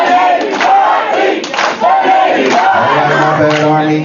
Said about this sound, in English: We're going to allow the Army team to practice their cheer one time through seated.